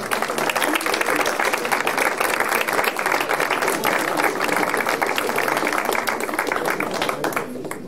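An audience at a UWC France conference applauds in a dense, steady wash of clapping that holds at an even level throughout.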